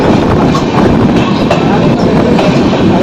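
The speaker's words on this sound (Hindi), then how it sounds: "तो आप डिपार्चर एंजॉय करिए खलीलाबाद रेलवे स्टेशन से।" The Rapti Ganga Express departs Khalilabad railway station in India, with loud, close rumbling and rhythmic clattering of wheels over rail joints heard steadily from on board the moving train.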